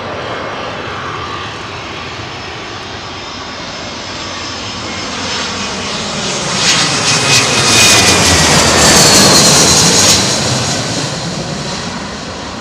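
Old Boeing 757 freighter jet engines spooling up on a runway at London Heathrow in blustery conditions, a broad steady roar that swells louder midway through and then eases slightly, heard from a distance without talk.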